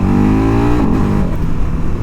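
A 2021 KTM 1290 Super Adventure S motorcycle with a 160 hp engine accelerates hard. Its rising engine note climbs, then drops as it shifts gear and keeps pulling, loud and close.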